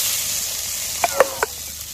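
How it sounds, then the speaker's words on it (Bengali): Bitter gourd pieces fry in a pan for a Bengali chorchori, giving a steady hiss with a few sharp clinks and scrapes from stirring partway through. "সবজিটাকে ভালো করে নাড়াচাড়া করেছি"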